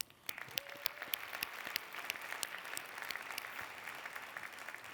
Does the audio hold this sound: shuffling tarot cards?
no